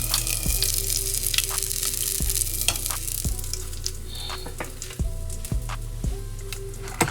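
Coconut shrimp frying in a deep fryer: a loud, continuous bubbling sizzle up close, with occasional sharp pops and clinks. Nobody talks.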